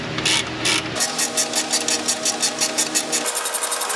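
An impact wrench drives brake caliper bolts on a 2003 Corvette, a rapid rattling hammer of regular pulses that runs steadily for several seconds close up, its tone shifting lower partway through.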